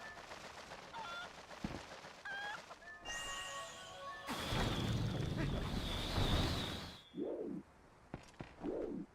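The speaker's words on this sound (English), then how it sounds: "you are annoying, little chicken" Chicken sounds from the video game Zelda: Twilight Princess, with short squawks and clucks and tonal game effects, then a dense noisy burst of flapping and clucking, followed by a few separate low squawks near the end.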